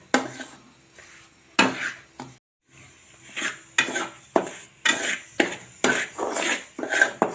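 Semolina roasting in ghee in a pan on low heat for moong dal sheera, with repeated clattering spoon scrapes against the metal at a steady rhythm, close and fairly loud.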